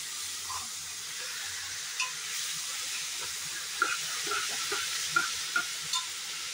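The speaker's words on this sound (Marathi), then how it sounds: "आता ह्याच्यात ही भिजवलेली तुरीची डाळ घालायची आहे. चांगलं हलवून घ्यायचं आहे." Soaked toor dal stirred and roasted in oil in a pan, giving a continuous hissing sizzle broken by several sharp scrapes and taps of a spoon against the pan.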